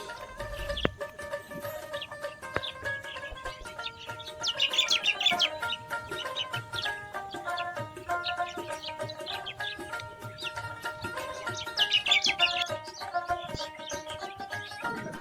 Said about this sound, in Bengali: ফুল ও পাখির কিচির মিচির শব্দে তৈরি হয়েছে এক মনোরম প্রাকৃতিক পরিবেশ